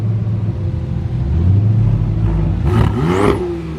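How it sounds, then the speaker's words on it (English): A Porsche Turbo S engine revs hard at close range, a sustained loud rumbling whir that swells into a rising, sweeping pitch near the end. "Oh my God, listen to this Turbo S."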